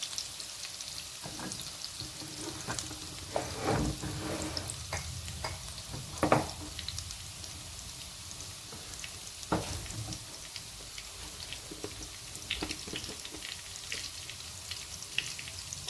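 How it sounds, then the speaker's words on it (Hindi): Chicken pieces fry in a karahi for Afghani malai karahi, a steady close crackling sizzle broken by scrapes and knocks of stirring throughout, with no talking. "और इसको हमने थोड़ा सा हल्का सा ब्राउन करना है, फ्राई करना है।"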